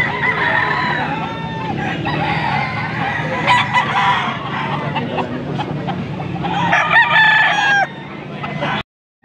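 Roosters at a cockfighting market in Angeles, Pampanga crow and cluck loudly nearby, several calls overlapping above the busy hum of the crowd, and people can be heard talking in the background.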